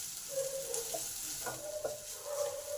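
Onion and ginger fry together in a pan on a medium flame, giving a continuous close sizzle punctuated by several short scrapes of a spoon stirring against the pan.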